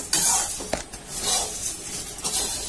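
Puffed rice namkeen being stirred in a bowl with a spoon, giving a dry crunchy rustle broken by a few sharp clinks of metal against the dish, close and with no talking.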